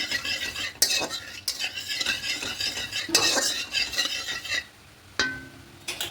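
Sugar stirred into hot oil in a pan for a catla fish kalia, with close, clattering scrapes of a metal utensil against the pan over a light sizzle.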